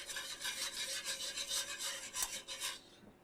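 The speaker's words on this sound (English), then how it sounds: "And whisk it around." A whisk scrapes around a pan of sawmill gravy in quick, continuous scratchy strokes, close and fairly quiet, then stops abruptly near the end.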